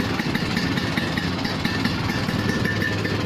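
A Vespa scooter engine runs steadily and fairly loud on a trip to go fishing, a continuous droning hum with no talk over it.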